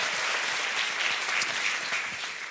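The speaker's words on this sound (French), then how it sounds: "est-ce qu'on peut faire une acclamation à faire sauter" A church congregation applauds and cheers loudly at a worship service, steady dense clapping with a few whoops mixed in, filling the hall throughout.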